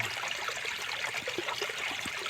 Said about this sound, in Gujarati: આ રીતનું પાણી આવે ધીમે ધીમે ધીમે ધીમે